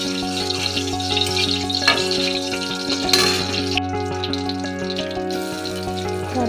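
Bay leaves sizzle in hot oil in a pan as the base for a Bengali jackfruit curry. A soft, steady crackle sits close under a constant tonal kitchen hum, with faint stirring scrapes.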